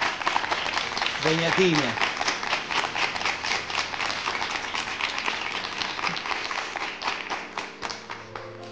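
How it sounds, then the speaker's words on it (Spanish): An audience applauds a guest at an interview event, steady clapping filling the room from start to finish while a voice speaks briefly over it. "le entreguemos un gran aplauso a nuestra amiga"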